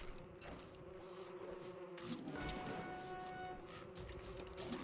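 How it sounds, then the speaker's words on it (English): Bees buzz in the video game Don't Starve Together, a faint steady drone with a few brief rising whines as they move close, continuous and quiet throughout. "Wow, bees."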